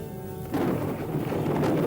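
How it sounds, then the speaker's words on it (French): Thunder in a thunderstorm: after a brief steady tonal sound, a loud, broad rumble suddenly rolls in and holds steady to the end, with no talking. "quel bel orage"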